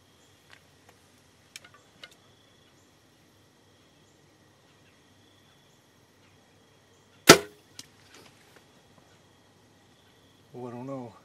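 A bow-shot arrow strikes a buck in a hunting setting, giving one sharp, loud impact near the middle, followed by a few faint ticks and brief rustles, then a short burst of noise at the end.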